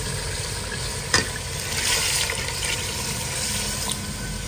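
Water is poured into browned potatoes in a cooking pot, setting off a steady, close hiss and sizzle with faint stirring and splashing throughout, and no talking.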